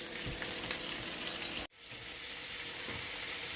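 Bacon sizzles and crackles on an outdoor grill in a dense, continuous hiss, briefly cut off by a short drop in level midway before the sizzle resumes at the same strength; no talking.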